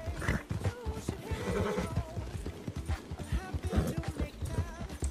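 Horse hooves clip-clop in a fast galloping rhythm in Red Dead Redemption 2, with a horse neighing partway through, busy game sound effects around them.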